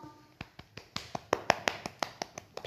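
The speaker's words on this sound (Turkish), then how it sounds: "Ben kendimi alkışlıyorum." A lone woman claps her own hands close by, about a dozen crisp, evenly spaced claps in a steady rhythm over a quiet indoor background, with no talking.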